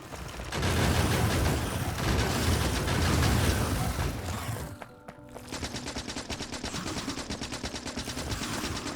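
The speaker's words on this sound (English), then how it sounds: "Maybe I can take this base out with some grenades." Dense, rapid bursts of explosions and gunfire from the Factorio video game keep up a loud, continuous barrage. A short lull comes partway through before the crackling volleys pick up again.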